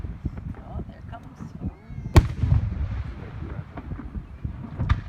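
Fourth of July fireworks bursting outdoors, one sharp loud boom standing out among distant thuds and crackles, with people talking nearby and some wind noise on the microphone.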